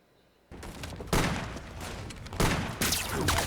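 Bursts of gunfire from a fantasy TV series battle scene, with loud, dense volleys starting after a brief quiet and surging again in several waves, no talk over it.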